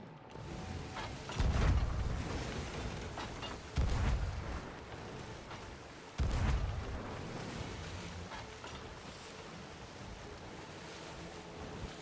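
Heavy ship cannon blasts in the pirate video game Sea of Thieves, three booming shots a couple of seconds apart over steady ocean surf and wind, with no talk.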